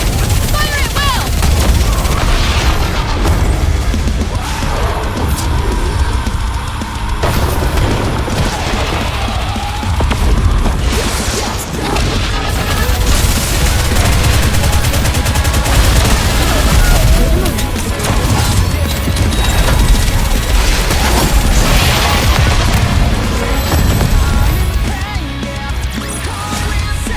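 Gunfire rattles constantly through a battle in the video game Nikke: Goddess of Victory, with dense loud volleys and booms that overlap with music and voiced character dialogue.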